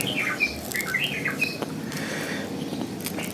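Several short, bright whistled calls of a sooty-headed bulbul ring out over a busy background of rustling and chatter-like noise, fairly close.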